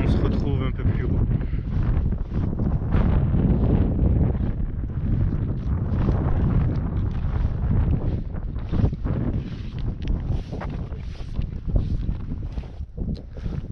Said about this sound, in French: En plus on a du vent frais